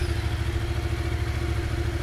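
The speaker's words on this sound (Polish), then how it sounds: "on się sam cofnie, motocykl jest odpalony" A Yamaha MT-07 motorcycle engine idles steadily close by, a loud, even low-pitched throb with a constant drone, no speech.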